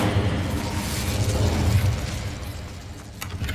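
Incendio fire spell cast in Hogwarts Legacy on PS5: a dense, loud rushing burst of flame-like roar that swells for about two seconds and then tapers off, with a few faint crackles near the end and no talk.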